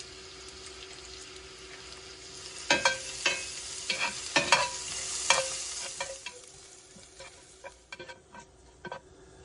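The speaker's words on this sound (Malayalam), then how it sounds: "ഇതിൻ്റെ കൂടെ തന്നെ കുറച്ച് കറിവേപ്പില. ഇതൊന്നിനി വഴറ്റിയെടുക്കാം." Curry leaves and coconut slices sautéing in a pan for a Kerala chicken roast, crackling and sizzling steadily, with stirring scrapes and sharper bursts of spitting oil midway; no one speaks.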